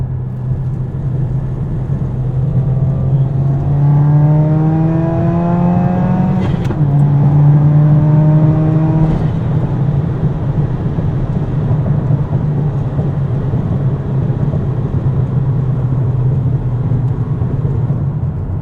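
Steady, loud engine drone from inside a tuned Subaru WRX on a canyon road in cold weather, with a rev rising and falling and a couple of sharp exhaust pops midway.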